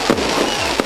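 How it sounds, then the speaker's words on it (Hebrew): Fireworks bursting at an event, a short loud crack near the start and a quick cluster of booming pops near the end, with a steady crackling wash in between. "מלא זיקוקים."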